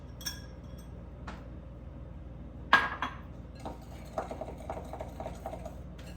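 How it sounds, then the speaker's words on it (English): Egg yolks are whisked in a bowl for chocolate pastry cream, making faint, quick metallic clinks and taps against the bowl with one sharper knock, close but quiet. "add your egg yolks in, and we're just gonna whisk it until ribbon stage"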